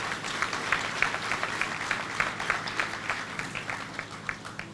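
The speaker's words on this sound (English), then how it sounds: "I think she deserves another round of applause" An audience applauds a Reverend at a church program event with steady, dense clapping throughout, moderately loud with a fairly even rhythm and no speech over it.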